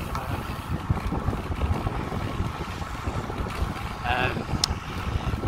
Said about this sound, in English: You're probably going to now hear the wind that headwind that I've had.